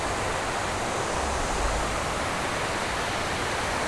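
A 30-foot waterfall roars as a dense, steady wash of rushing water, loud and close with no breaks and no voices.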